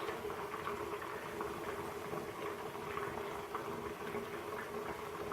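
Hot oil sizzles and bubbles in a steady, dense crackle while deep frying fried cornmeal, continuous and even throughout.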